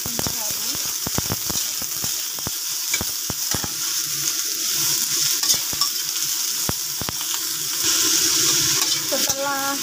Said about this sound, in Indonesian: Masukkan bawang bombay, tumis hingga harum.